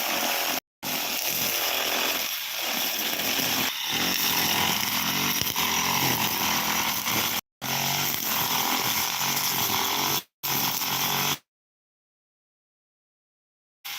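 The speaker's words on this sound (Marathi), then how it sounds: "वर ग्रास कटिंग करत आहे खूप" A grass cutter's engine drones loud and steady at close range while clearing a backyard garden in a Konkan village, cutting out briefly a few times before stopping, followed by silence.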